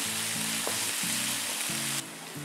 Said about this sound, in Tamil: எல்லாமே ஹை ஹீட்னால ஒரு ஃபியூ செகண்ட்ஸ்க்கு நம்ம பண்ணாலே போதும்